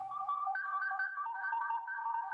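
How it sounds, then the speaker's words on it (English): Gibbon call sampled as a lead sound in electronic music, a sequence of bright warbling tonal notes stepping between pitches in a quick repeating melodic pattern, clear and alone. "Then we've got the sound of the gibbon, which makes like a lead sound."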